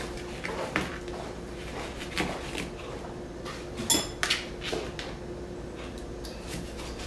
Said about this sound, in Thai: หั่นมะนาวต่อ